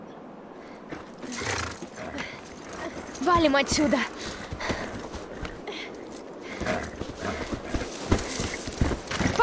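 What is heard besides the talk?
horse galloping away in video game The Last of Us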